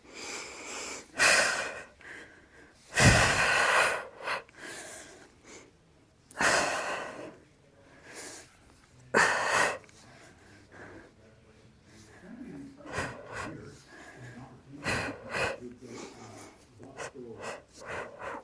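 Heavy breathing during a Pilates ab workout: loud, forceful exhales and sharp inhales come in irregular bursts, close up, with quieter gaps between efforts.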